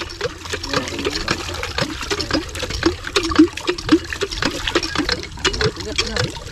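Water gushing from a hand pump in short repeated surges that match the pumping strokes, splashing steadily and close, with people talking throughout.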